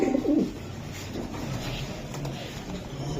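Racing pigeons coo in soft, low throaty bursts close by, strongest at the start. Faint talk and background murmur run underneath.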